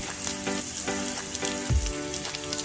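Onions and green chillies fry in a pan for raw jackfruit biryani, giving a steady, close sizzle with a few louder stirring bumps and no talking.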